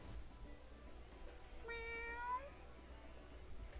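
A person imitates a cat, giving a single drawn-out meow of about a second that sits over a steady low background hum.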